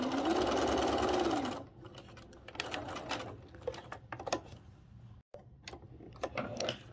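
Kite-shaped quilt pieces run through a sewing machine, heard as close, intermittent bursts of rapid mechanical ticking and stitching, with a brief silent gap before sewing resumes.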